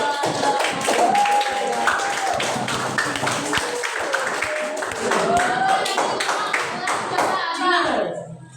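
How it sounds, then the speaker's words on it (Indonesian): A group of schoolchildren in a classroom claps hands together in a steady burst of overlapping claps lasting several seconds, with children's voices talking over it before it stops. "Kasih tepuk tangan."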